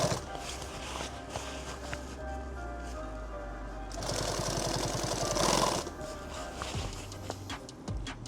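A sewing machine stitches fabric for a custom shooting mat, running in short bursts with a fast mechanical chatter, louder around the middle, amid handling noises and shifting material.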